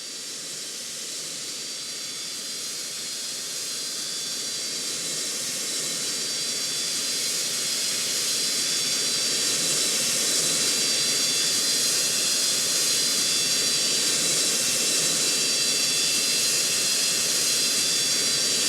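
An airliner's left-side jet engine spools up in the Roblox game Project Flight, a broad steady hiss and whine that swells gradually louder over the whole stretch with no voices.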